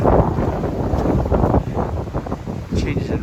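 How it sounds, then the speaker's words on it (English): Strong wind buffets the microphone on an outdoor walk in Aberystwyth, a continuous low rumbling roar with gusty swells throughout; a voice may be faintly present beneath. "it is really windy today"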